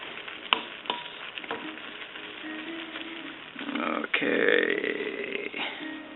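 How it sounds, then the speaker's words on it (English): Kale being stirred in a pot with a wooden spoon, giving soft scraping and rustling with a few sharp knocks and a brief louder sizzling swell near the end; fairly quiet and close. "Let's mix that all up. Again, using a wooden spoon."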